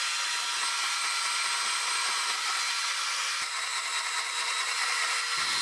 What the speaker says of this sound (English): These saws are loud, so you want ear protection. And back to the bandsaw.